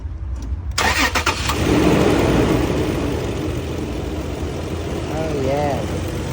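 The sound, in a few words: 2008 Toyota 4Runner engine starting after coil pack replacement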